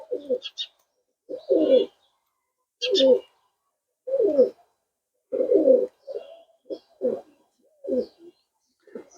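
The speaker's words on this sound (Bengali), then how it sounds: "আমার হাতে আজকে যেই কবুতরটা দেখতেছেন এটা একটা সাক্ষীবাটি কবুতর" A Sakhibati pigeon, a pencil-shaped breed, coos close by in a series of low, throaty phrases separated by brief silences.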